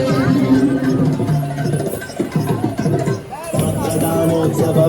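Crowd chatter at a Rathasaptami festival at a temple in Kolhapur, where Bharatanatyam dancing and elephants are present, a close, loud babble of many overlapping voices that rises and dips without pause.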